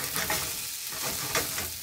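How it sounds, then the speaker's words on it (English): Cauliflower fries in a pan, a close, dense sizzle with soft stirring clatters, no voices. "So I'm going to fry off this until we get a little bit of colour."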